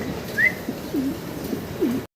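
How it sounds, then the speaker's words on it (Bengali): A pair of large, almond-coloured fancy pigeons coo several times in short, separate phrases, close and clear over a low background murmur. "এক জোড়া এখানে আছে বিশাল সাইজের শৌখিন কবুতর"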